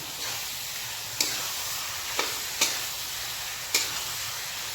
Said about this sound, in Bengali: এবার একটু নাড়াচাড়া করে নিই।